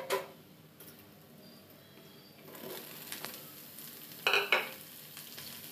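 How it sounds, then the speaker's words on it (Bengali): Sliced onion sizzles in hot oil in a pan, nearly browned, with cut eggplant about to go in for a lote (Bombay duck) fish curry; a steady soft frying hiss is broken by a few louder scrapes and stirring clatters. "পেঁয়াজটা ভাজা প্রায় হয়ে এসেছে, এখন কেটে রাখা বেগুনটা আমি দিয়ে দেব।"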